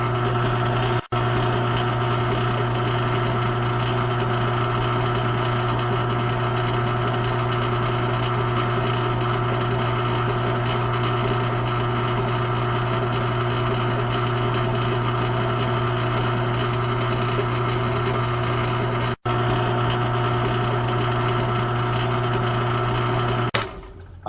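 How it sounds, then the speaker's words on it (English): Electric motor running in star (Y) configuration on a lab trainer, a loud steady hum with a strong low drone and constant mechanical whir, switching on near the start and stopping at the very end. "we have successfully run our motor on star or Y configuration"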